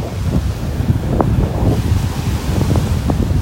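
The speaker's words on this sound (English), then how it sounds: "Boy, that wind is incredible here." Strong wind blasts across the microphone on the beach at Delnor-Wiggins in North Naples, Florida, a loud continuous roar with gusty low rumbling and surf mixed in, no one talking.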